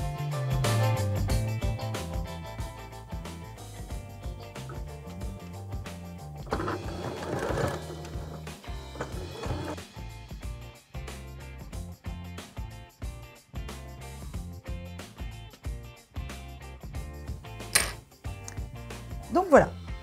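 A sewing machine running a holding seam across a bow tie strap, heard in short bursts of rapid mechanical stitching among light clicks and handling noises, with a voice speaking in the background.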